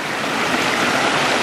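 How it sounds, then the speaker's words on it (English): Water from Ryan's Creek falls tumbles over the Blowering Cliffs into a small stream below, making a steady, continuous rushing and trickling wash that stays even and fairly loud throughout. "tinkling stream"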